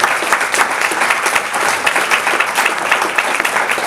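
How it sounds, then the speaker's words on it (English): An audience at a forum claps in sustained applause, a dense crackle of many hands that keeps up steadily and loud throughout. "I would like to give a special round of applause for them for putting this on."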